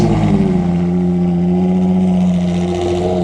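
A Ferrari FXX K race car drives past at a Goodwood event with a loud, steady engine drone carrying sustained tonal harmonics, close and continuous.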